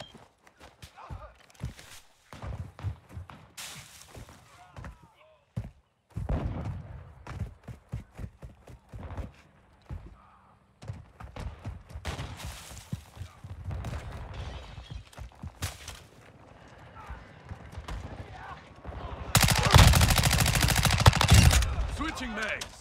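Glock 18 pistol fire aimed at bots in a shooter video game, heard as bursts of sharp rapid shots scattered through the clip, ending in a loud sustained volley, with footstep-like clatter in between.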